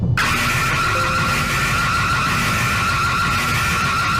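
Zambia's emergency alert system alarm, a loud harsh sustained electronic tone with steady high pitched bands over a gritty noisy wash, starting abruptly and continuing unbroken for several seconds.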